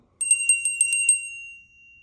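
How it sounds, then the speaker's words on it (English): A bright, high celestial bell rings in a quick run of about seven clear strikes, then a shimmering tone lingers and fades away on its own. "Celestial Bell,"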